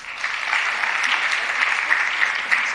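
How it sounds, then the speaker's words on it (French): Audience applause at a French-language event on violence against women, a steady dense wash of many hands clapping throughout, fairly close and even in loudness. "Une main d'applaudissement, s'il vous plaît."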